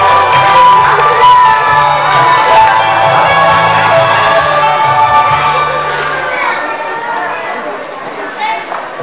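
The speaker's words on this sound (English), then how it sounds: "Let's give a round of applause to Ma'am Eds." Guests at a children's 7th birthday party cheer and clap loudly, with kids shouting and excited voices layered over the crowd noise, which eases slightly toward the end.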